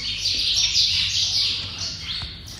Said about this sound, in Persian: پرنده ها این تو هم هستن.